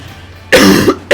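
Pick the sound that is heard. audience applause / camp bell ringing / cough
cough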